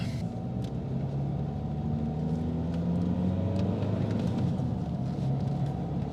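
A BMW 120d diesel hatchback pulls under load with a steady, low rumbling drone from inside the cabin that holds level throughout, with the engine note rising slowly.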